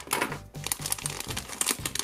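Scissors cut open a plastic toy wrapper for a Littlest Pet Shop figure, with close, loud crinkling and rustling of plastic in short bursts.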